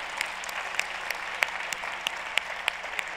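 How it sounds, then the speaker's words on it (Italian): Audience at a talk applauding themselves, a soft wash of distant clapping with a few louder individual claps popping out at irregular intervals. "Grandi, fatevi un applauso."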